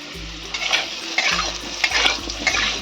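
A spoon scrapes and stirs fried potatoes with turmeric in a sizzling pan, several rhythmic scraping strokes over a soft continuous fry, close up, no voices.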